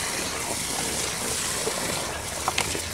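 Water runs steadily from a hose onto dry mud mix for building brick stoves outdoors, a dense continuous gushing wash with a few soft knocks near the end.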